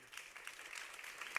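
Audience applause for round-table panelists at a conference session, a faint, brief spatter of clapping from a room crowd.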